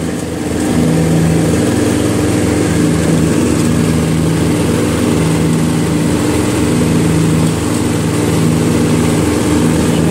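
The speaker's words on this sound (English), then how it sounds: "So I'm gonna let go of the clutch now. And we're mowing." Murray Select 12.5hp riding lawn tractor with a 40-inch deck mowing grass, its engine droning steadily and loud up close with a pulsing, even hum throughout, no voices.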